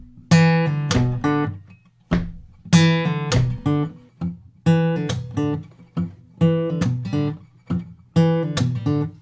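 Funky acoustic guitar slap-and-pop riff repeated as a looped phrase: a bass note, a sharp pop and a percussive slap on the open string, in a steady, bouncy rhythm that repeats about four times, close and clear with no talking.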